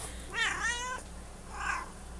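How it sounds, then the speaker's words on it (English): A pet cat meows twice, close and clear: a longer wavering call followed by a shorter one after a brief pause, over a quiet room hum. "I think my cat just chimed up."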